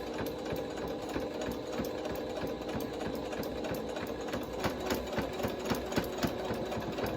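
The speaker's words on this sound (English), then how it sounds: "Now you can sew over this boning." A sewing machine stitches steadily along the edge of a fabric face mask, running over boning, with a continuous close mechanical whir and a faint rhythmic ticking throughout.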